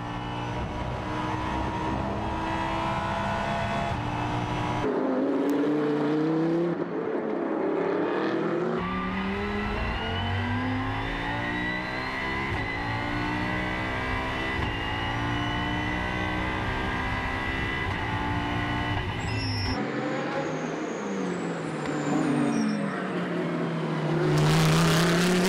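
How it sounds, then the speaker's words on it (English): Audi R8 race car on Pirelli tyres at the Spa 24 Hours: engine notes climb and fall through repeated gear changes and passes, loud and near, with the tones shifting as the car goes by. "The temperature is lower and the R8 does wonders with its Pirelli tyres. It maintains a fast, steady pace."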